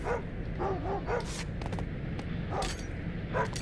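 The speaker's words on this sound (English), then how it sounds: "shut this dog up." A dog barks in short, repeated bursts, several yips and woofs spread across a few seconds over a noisy, rumbling background.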